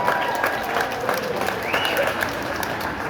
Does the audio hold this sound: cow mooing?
no